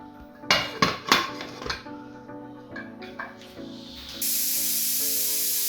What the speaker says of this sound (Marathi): आपण याला आता दोन शिट्ट्या काढून घेणार आहे